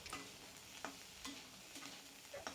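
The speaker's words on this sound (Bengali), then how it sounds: "প্রায় চার থেকে পাঁচ মিনিট সময় ধরে ফুলকপিটাকে আমি ভেজে নিচ্ছি" Cauliflower pieces frying in a pan while being stirred and broken up with a spatula, with a steady low sizzle and periodic scraping strokes of the utensil, close and moderately quiet.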